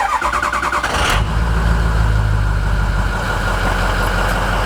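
A 2007 Ford F-350 pickup's engine cranks with a rapid chatter, then catches and settles into a loud, steady rumbling idle close by after a glow plug controller replacement.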